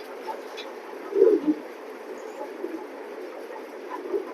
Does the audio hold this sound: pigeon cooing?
yes